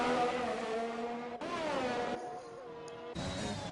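In a racing video game, a race car on wet tyres enters the pits with a close engine note that shifts pitch across a few gear changes and speed changes, heard alone with no voices.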